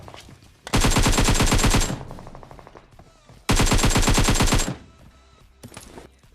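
Automatic gunfire from a squad rush in Battlegrounds Mobile India, two loud rapid bursts of about a second each with quieter scattered shots between and after.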